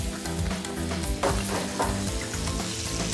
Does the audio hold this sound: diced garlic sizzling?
yes